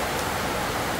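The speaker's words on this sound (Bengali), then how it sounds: "বাইরে প্রায় অনেক বেশি বৃষ্টি পড়তেছে।" Heavy rain pours outside, a dense, even hiss that holds steady and loud for the whole second with no voices.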